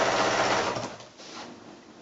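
A sewing machine stitches quilt binding, its motor whirring steadily up close before slowing and softening toward the end, with no voices heard.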